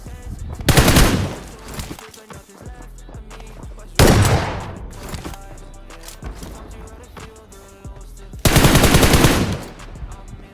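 Bursts of automatic gunfire from a battle royale video game, three loud sustained volleys with quieter shots and game sounds between them.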